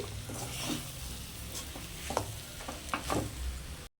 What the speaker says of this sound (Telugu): ఈ రైస్ని మనం దీనిలో కలిపేసేద్దాము కలిపేసేసి బాగా వేపాలండి